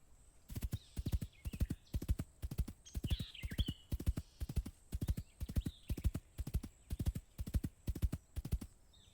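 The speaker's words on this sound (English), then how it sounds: "The horses are ready." Horses trot at a steady clip-clop for an audio drama, their hoofbeats sharp and evenly spaced, with a faint whinny or two breaking through near the start.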